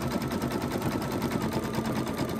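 An embroidery machine stitches a monogram onto a towel, giving a steady, fast mechanical rattle that runs continuously and close throughout, with no talk.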